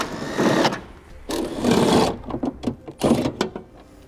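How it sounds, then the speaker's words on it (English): A 13 mm socket wrench loosens bolts from a brace on a 2016 Chevrolet during a battery disconnect installation, giving bursts of close ratcheting clicks and metallic scraping in several short runs. "Use a 13 millimeter socket for these."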